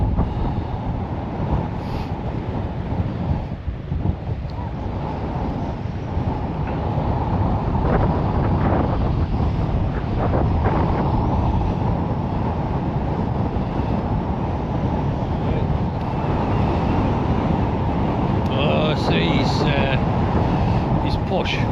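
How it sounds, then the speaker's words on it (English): Strong wind buffets the microphone on a Northumberland beach during sea fishing at Druridge Bay, a continuous loud rumbling roar with gusts, while people talk over it. "As you could see, the wind's getting up."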